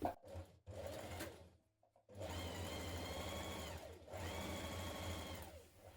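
A sewing machine runs in two close, steady bursts with a short pause between, stitching a double seam on children's dungarees, with no voices.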